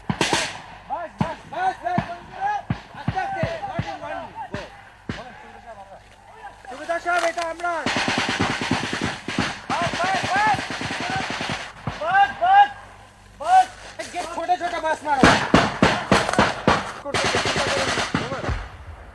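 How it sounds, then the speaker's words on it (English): Covering gunfire during an assault in a village battle of the East Bengal guerrilla war near Sylhet: bursts of rapid automatic fire and scattered shots crackle in clusters, loud and close, with voices shouting between volleys. "The assault was launched under covering fire."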